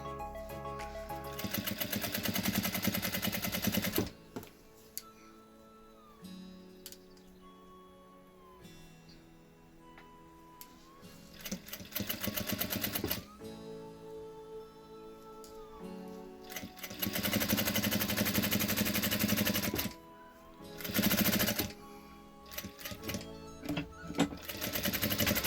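A sewing machine stitches fabric along a 0.5 cm seam in several loud, close bursts of rapid, steady whirring, separated by quieter pauses and a few soft handling sounds.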